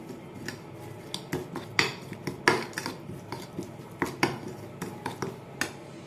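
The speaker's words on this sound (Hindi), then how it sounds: "अब हम इसको अच्छे से मिक्स कर लेंगे" A spoon scrapes and clinks steadily against a pan while ground turmeric, garam masala, salt and red chilli are mixed together, with repeated sharp metallic taps over a constant background rustle.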